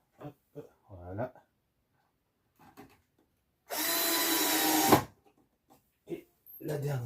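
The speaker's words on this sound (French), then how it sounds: "Et on visse avec les vis à bois sûrement maintenant." A power drill drives wood screws while furniture for an observation tower is assembled, one loud steady whir lasting about a second, close by, between short bursts of talk.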